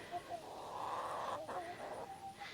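Backyard chickens in an expanded run cluck and murmur softly in a garden, a faint, scattered flock chatter with no talk over it.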